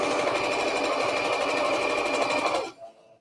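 A sewing machine sews a cushion cover in a loud, steady, close whirring run that cuts off near the end.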